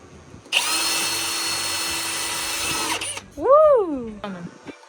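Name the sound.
power drill drilling a shaft hole in a lego part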